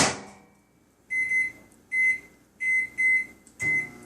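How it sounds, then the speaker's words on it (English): A microwave oven heating chocolate chips gives five short, loud electronic beeps in a steady rhythm after a quiet hum fades. "put them back in the microwave for another 20 seconds"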